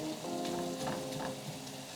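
Taco meat cooks in a pan with a soft, steady sizzle, broken by light scraping and tapping as a utensil chops and stirs it, fairly quiet and close.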